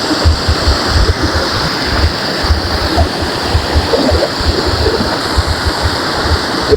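A strong stream rushes loudly and steadily during a nighttime climb lit by a phone flashlight, a continuous broadband roar of deep, fast water with no voices over it.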